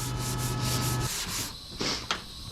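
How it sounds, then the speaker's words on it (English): Sandpaper rubbing along the primer edge on a car's paintwork, a steady rasping scrape for about a second, then shorter, fainter strokes with brief pauses between them. "Making sure that I'm sanding the edge of the primer"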